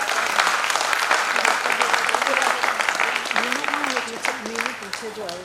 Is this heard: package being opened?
no